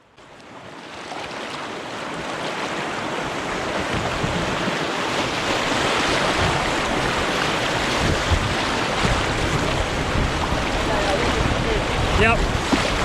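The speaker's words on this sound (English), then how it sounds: "Then we'd position the canoe in the main channel before paddling the rest of the rapids." Canoe paddling through whitewater rapids on a river in Ontario, heard as a steady roar of rushing water and wind that swells over the first few seconds and stays loud throughout.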